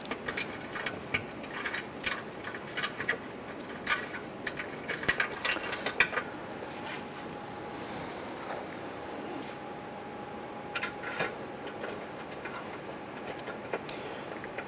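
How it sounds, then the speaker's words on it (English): Screws are driven into the front bumper splash shield of a 2005-2010 Chrysler 300, giving quiet irregular ticks and ratcheting clicks with faint scraping against a low background. "let's go ahead and install our two rear screws here"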